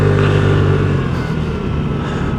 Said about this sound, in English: You can basically just keep this bike upright by simply holding your rear brake and then giving a little bit of throttle, just like that.